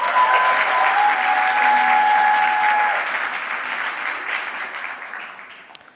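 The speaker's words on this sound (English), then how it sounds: "May we please give Refiloe one last round of applause." Loud round of audience applause at a corporate symposium, dense clapping from a large crowd that swells, holds, then gradually tapers off, with a few faint whistles early on.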